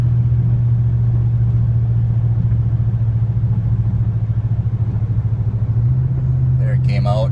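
A gasoline truck engine drones steadily in overdrive, then its pitch steps up as the transmission kicks down, a close, continuous rumble with a voice breaking in at the end.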